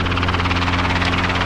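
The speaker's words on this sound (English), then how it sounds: "We're gonna plant the helicopter here right in the middle, I think. Getting a lot of downwash." Helicopter settling down to land on a small island, its rotor thudding in a loud, steady, close pulse with a dense roar of downwash air, no talk over it.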